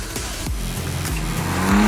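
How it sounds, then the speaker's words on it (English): A sports car engine growls and climbs in pitch through quick gear changes, loud and close, with a rising roar at the end. "This is a raw sports car with a little bit of modern."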